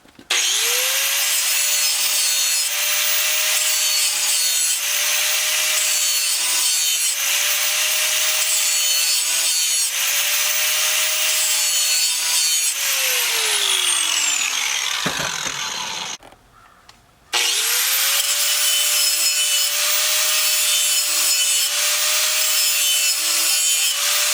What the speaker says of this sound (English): I'm going to sharpen this at 30 degrees on both sides.